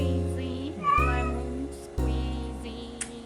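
A cat meows loudly and insistently several times in a row, close by, with short pauses between the drawn-out cries.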